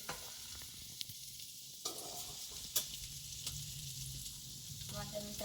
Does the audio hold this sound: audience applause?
no